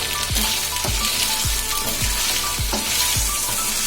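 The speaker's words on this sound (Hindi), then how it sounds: "बहुत अच्छे से फ्राई कर लेना है इसे।" Mutton fries in a pan for a mutton and potato dish, with a loud continuous sizzle and regular scraping strokes of a spoon about every half second, close up and with no voices.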